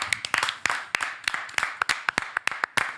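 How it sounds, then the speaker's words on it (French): Scattered claps from a small group at a French quiz show finale, sharp irregular hand claps close to the mic, thinning and uneven over about three seconds with no talk. "On peut encore applaudir."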